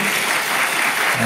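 Audience applauding in a wedding hall in Sultangazi, Istanbul, a loud, dense, continuous clapping that fills the room, with a voice faintly present underneath.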